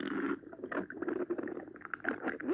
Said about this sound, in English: Why is my stomach growling louder?